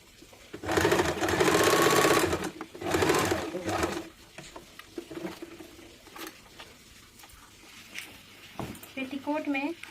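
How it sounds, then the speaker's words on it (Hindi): A sewing machine stitches the side of a petticoat in two close bursts near the start, followed by quieter handling noises and faint talk. "दोनों पल्ले को इस प्रकार सटा के दूसरे साइड वाला भी हिस्सा सिलाई कर लेंगे।"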